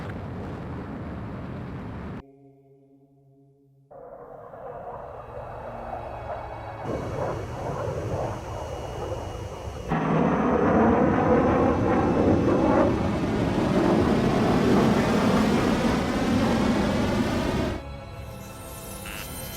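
In Ace Combat 7, a railgun projectile launches from an aircraft with a heavy, sustained roaring blast that swells suddenly after quieter rumbling and mechanical tones, then cuts off.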